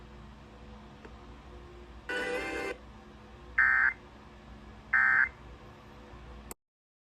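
Bursts of EAS emergency alert data tones, one long buzzy burst followed by two shorter bright tone bursts over a low hum, then an abrupt cut to silence.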